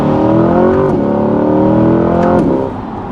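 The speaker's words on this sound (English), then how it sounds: "So we'll go ahead and do a downshift here" A 2021 Chevrolet Corvette C8 Z51 with a dual-clutch 8-speed downshifts under steady, loud engine drone, two sharp rev blips marking the gear changes before the note eases slightly at the end; no talking.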